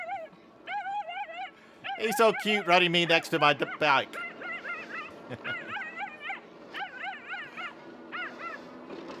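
A Dachshund running alongside an Aventon Aventure e-bike gives repeated close, high yips and whimpering barks in bursts, loudest in the middle, while someone talks over it.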